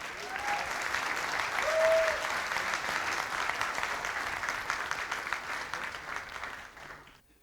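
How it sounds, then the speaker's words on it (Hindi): An audience at a motivational business talk breaks into loud, steady applause that holds for several seconds before tapering off at the end. "जोरदार तालियां हो जाएं।"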